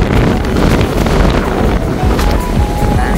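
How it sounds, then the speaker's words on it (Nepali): Strong wind by the sea buffets the microphone in a loud, continuous roar, with surf and waves churning underneath. "हावा उस्तै छ।"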